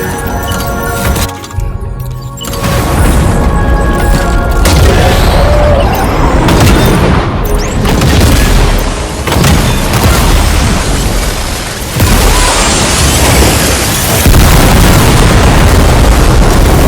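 The main cannon of the ship Magellan firing in the video game Death Stranding 2, loud booming blasts with a long rumbling roar that keeps building over many seconds, layered with game effects and no voices.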